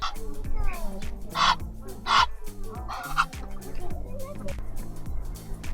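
Chicken at a zoo making several clucking, honking calls in short bursts at moderate distance, mixed with crowd chatter and background voices throughout.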